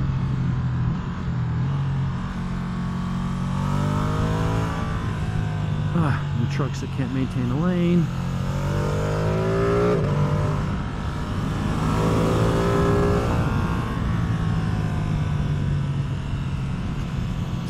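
A 2024 Ducati Streetfighter V2 engine hums steadily under load while riding on Pirelli tires, with short-shifted, restrained revs and constant wind and road noise beneath a rider talking throughout.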